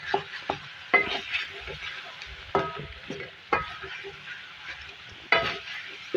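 Chopped onions softening with chicken in a hot pan, a steady close sizzle with bursts of stirring and spoon scrapes every second or so, a faint voice in the background.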